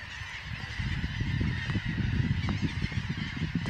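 Dense flock of birds honking on the shore of Egmont Key at sunrise, a loud, continuous clamor of overlapping goose-like calls close by, with no talking.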